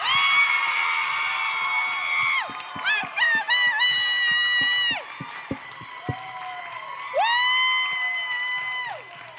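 A teen poetry slam crowd cheers and whoops in loud, sustained bursts with scattered claps, rising and falling in waves over about nine seconds.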